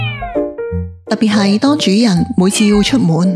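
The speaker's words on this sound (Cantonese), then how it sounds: "貓就會全神貫注，一路咁跟住主人，唔停咁叫" A domestic cat meows several times in clear, harmonic calls at the start, then a person talks at length with the cat quiet or buried under the voice.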